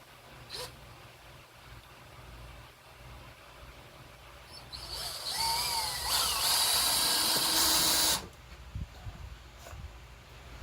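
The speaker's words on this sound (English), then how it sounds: "I'm going to drill this screw down here to hold this face board up" A power drill drives a screw into a face board on a model railroad layout, giving a short, loud whirring burst of a few seconds after a quiet stretch.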